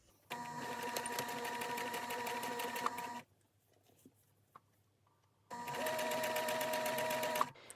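A sewing machine stitches a knit neckband with black thread in two fast, even bursts of rapid mechanical ticking, separated by a quiet pause of about two seconds, close and alone.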